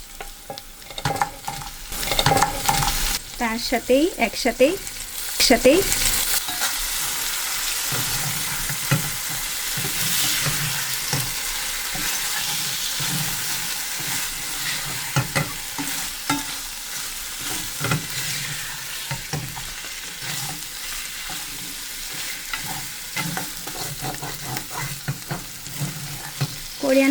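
Crab, turmeric and spices frying in oil in a pan, a continuous sizzle with repeated scraping stirs throughout, and a brief spoken remark early on.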